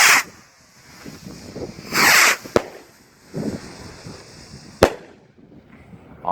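Dominator Apollo program rocket fireworks launching outdoors: two loud whooshing hisses of lift-off followed by sharp cracks, with quieter rustling between.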